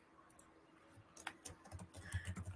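Faint typing on a computer keyboard, a short run of soft clicks at a quiet, steady pace that picks up slightly toward the end, with no talking.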